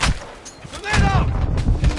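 A grenade explodes in a shooter video game, a sharp blast followed by rolling low rumble and gunfire-like cracks, with a voice calling out over the noise.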